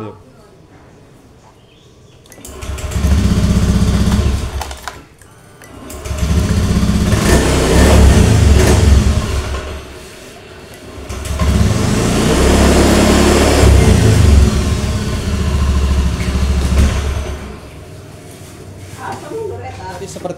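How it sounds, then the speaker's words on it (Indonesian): An automatic scooter with a starting fault cranks and fires up three times, each time revving loudly for a few seconds before stalling, with no steady idle between the close, loud bursts. "Saat di starter menyala, nah setelah mati dia ini kan sudah nyala langsung mati lagi Pak"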